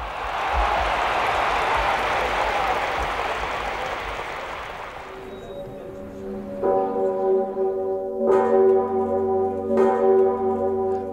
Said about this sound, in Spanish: La gigantesca campana de 9 toneladas de la Catedral de Babel repica.